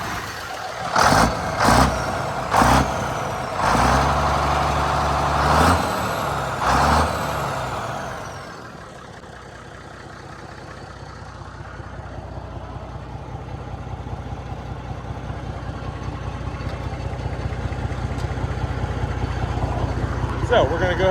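A Mack B61 turbo diesel truck engine runs at a steady idle, a low rumble filling the background throughout, with loud bursts and a voice over it early on before the engine carries on alone.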